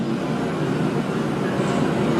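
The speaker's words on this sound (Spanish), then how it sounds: "Ahí se puede escuchar el sonido de la calle Lima" Street noise in Lima, Peru, a steady wash of city traffic played back from recorded footage, continuous and fairly loud with no clear individual events.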